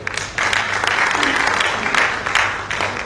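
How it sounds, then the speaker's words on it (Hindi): Listeners at a patriotic poetry recital welcome a female poet with close, loud applause that rises sharply after a brief pause and holds steady, fading slightly at the end. "स्वागत कीजिएगा तालियों से"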